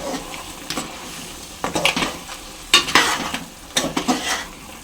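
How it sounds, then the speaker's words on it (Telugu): A spoon stirs curry leaves, coriander powder, salt and chilli powder through a curry frying in a pan, giving irregular scraping bursts over a steady low sizzle, close and clear with no talking. "ఇప్పుడు ఇందులోనే కరివేపాకు ధనియాల పొడి రుచికి సరిపడినంత ఉప్పు అలాగే కారము ఇప్పుడు అంతా కలిపేసుకుందాం"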